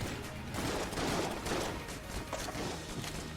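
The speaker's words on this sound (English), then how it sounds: "His gun is so big. It's firing these tiny little bullets." Enemy gun in the game Gungeons and Draguns spraying tiny bullets, a dense continuous crackle of rapid shots that sits fairly quiet and steady throughout.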